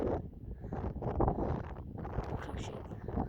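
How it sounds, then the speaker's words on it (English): Strong mountain wind buffets the microphone with loud, rumbling gusts that rise and fall through the whole moment, close and overpowering. "Wind strong."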